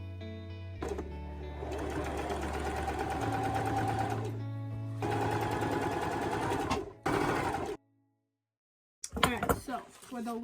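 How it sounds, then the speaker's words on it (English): A sewing machine runs in long steady bursts, stitching a waistband onto pants, its rapid mechanical whir starting and stopping several times, with a short silent gap and handling noise near the end. "And now all I need to do is sew this to the pants."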